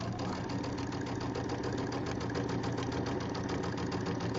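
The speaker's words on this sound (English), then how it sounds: "I'm going to line up my foot and do my 1/4 inch seam" Sewing machine stitching a quarter-inch seam on a quilt, a fast, even mechanical chatter that runs steadily and close throughout with no talking.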